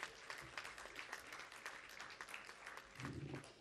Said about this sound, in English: Ladies and gentlemen, let's welcome them with a huge round of applause,